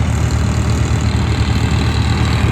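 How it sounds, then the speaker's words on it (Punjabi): A loaded tractor hauling a trolley runs with a loud, steady low diesel drone, continuous and close throughout with no talk. "ਕੀ ਲੋਡ ਤੇ ਚੱਲ ਰਿਹਾ ਟਰੈਕਟਰ"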